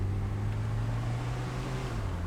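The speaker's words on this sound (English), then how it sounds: "Let's see what we can get out of this engine then." A classic Mercedes pillarless coupe with a 2.3 litre engine pulls away and accelerates, its low steady engine drone rising slightly in pitch, close and continuous with no talk.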